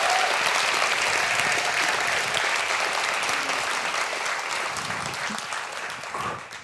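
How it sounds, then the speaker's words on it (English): A live audience gives a big round of applause for author Irvine Welsh, dense clapping that starts loud and tapers gradually toward the end. "give him one more big round of applause"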